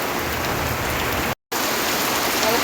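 Heavy rain pouring down in a dense, loud, unbroken hiss of drops on surfaces, cut by a brief moment of silence partway through.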